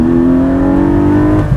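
A 2020 Porsche 718 Boxster Spyder's engine revs in one short sustained rip, a loud close drone holding pitch before briefly dropping off at the end, with no voices.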